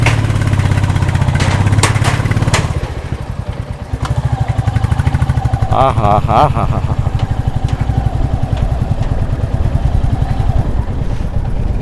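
A motorcycle engine rumbles steadily throughout, with clanking and rattling as it rolls along a hanging bridge, while a person laughs and calls out over the noise.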